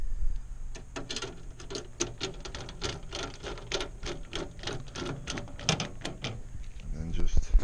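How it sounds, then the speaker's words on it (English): Screws being driven back into a hard drive mount inside an HP desktop PC, a close series of quick ratcheting clicks and ticks in steady bursts, heard alongside someone talking. "put your screws back in the way they came out"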